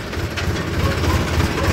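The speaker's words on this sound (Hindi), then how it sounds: "तो ट्रैक्टर बहुत ज़्यादा दौड़ा भी नहीं सकते हैं," A tractor rolls slowly through the rain, its engine giving a dense, steady low rumble with rattling and rain noise spread across the whole clip, with no talking.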